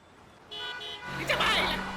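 A car horn sounds in short tones amid busy traffic noise, with a louder burst of honking toward the end.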